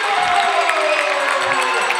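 Roaring crowd noise fills the arena after a goal at an indoor soccer game between the Wichita Wings and Colorado Rumble, a dense, loud, sustained cheer with shouts rising throughout.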